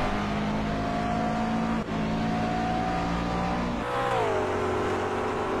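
A McLaren race car passes on a circuit near the turns 9 and 10 chicane, its engine a loud steady drone that drops in pitch as it goes by, with no voices over it.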